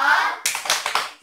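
A third-grade elementary class gives a rhythmic 'tepuk jempol' clap for a classmate: a brief voice first, then three sharp, close group claps in an even beat.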